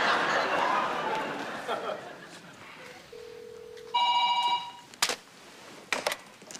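A telephone is dialed in a sitcom home scene: after talk at the start, a steady dial tone sounds, then a short electronic ring burst follows, with a few sharp clicks near the end.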